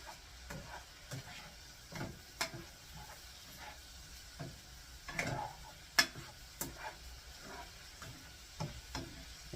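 Shrimp being stirred with seasoning in a pan, with soft scraping and clinking of a utensil over a faint sizzle, quiet and close, in irregular strokes with no talking.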